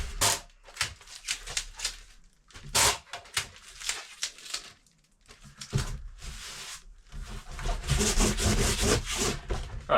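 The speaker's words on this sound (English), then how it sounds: "Apologies for the loud squeakiness of the tape. It's very annoying, but you get used to it." Squeaky sellotape is torn off the roll and pressed onto a heavy package in repeated loud, close strips, each a harsh screeching rip, with short pauses between pulls and a long continuous stretch near the end.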